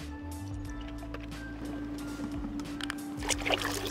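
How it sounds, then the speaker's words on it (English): Muriatic acid is poured into water in a one-gallon pitcher, topping it up to the four-quart mark: a close, continuous trickling pour over a low hum, with a brighter splash near the end. "we're gonna add our acid up to the 4-quart mark"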